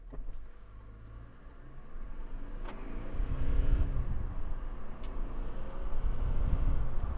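A Toyota Land Cruiser Prado J150 SUV pulls away hard in a sprint test, its engine and road roar building steadily from a quiet start into a sustained loud drone, heard from inside without talk.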